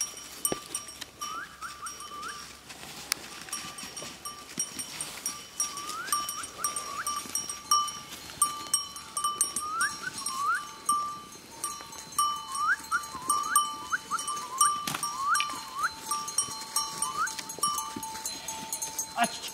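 A flock of sheep and goats with bells moves along forest paths with shepherd dogs, small bells clinking and jangling steadily throughout at moderate distance, with occasional faint bleats and a shepherd's brief calls.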